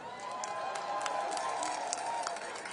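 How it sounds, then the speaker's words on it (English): A crowd at a voting rights march in Washington, D.C. applauds and cheers steadily, a faint, distant wash of clapping that runs throughout. "Clap yourselves up,"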